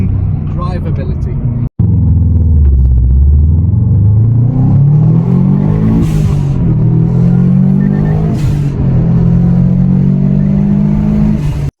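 A 2004 Subaru Impreza WRX STI's engine revs and rumbles on the road, its pitch climbing and falling through gear changes, loud and close with a deep, steady drone.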